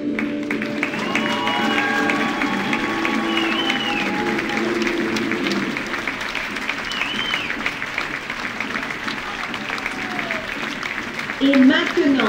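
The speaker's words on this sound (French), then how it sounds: "Merci d'applaudir la chorale d'adultes du collège." The audience at a college choir show applauds the adult choir, steady clapping running throughout while music with sung or instrumental tones carries over it and a few cheers rise near the end.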